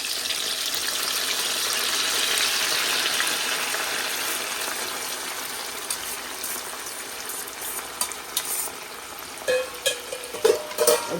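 Bitter gourd peels and seeds frying in hot oil, a steady hissing sizzle that slowly eases, then a few sharp crackles and pops near the end, close and with no voices.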